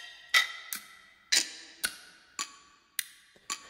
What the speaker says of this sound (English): Sometimes it's Tiks Toks, clock sounds.